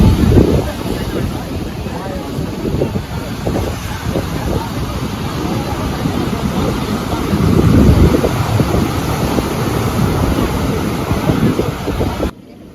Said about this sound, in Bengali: দেখুন সমুদ্রের আওয়াজটা আপনারা একটু শুনে নিন